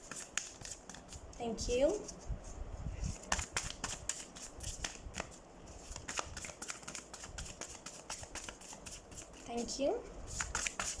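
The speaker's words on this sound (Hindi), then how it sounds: "तो सबसे पहले आपके लिए हम कार्ड शफल कर लेते हैं कैंसर्स।" Tarot cards riffle and slap through a steady shuffle, with crisp clustered bursts repeating across the span while someone speaks briefly over them.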